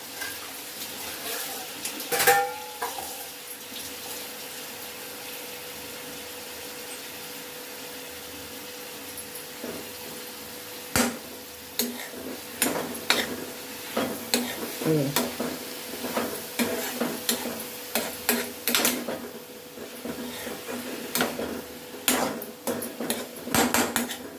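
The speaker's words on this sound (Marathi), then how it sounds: "आता काय टाकणार आहोत टोमॅटो टोमॅटो पण आपण परतून घेणार आहोत" Chopped tomatoes sauté in a pan over low heat with a soft, steady sizzle, broken by repeated scraping and clinking of a spoon stirring against the pan, close up.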